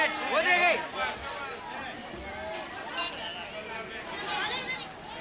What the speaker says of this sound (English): And they're yelling whores, prostitutes, and worse obscenities